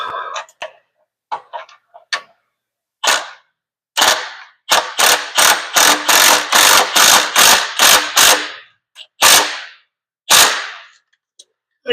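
Impact wrench on the bolts of a long-idle Ford 460 engine, fired in a rapid run of sharp, loud bursts, some short and one long stretch of repeated hammering, then a few separate closing rattles.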